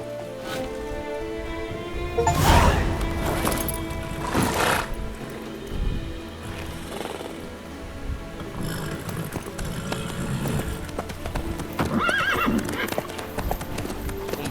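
In The Witcher 3, a horse's hooves clip-clop in a steady rhythm, loud and near, with a clear whinny partway through and soft background game ambience.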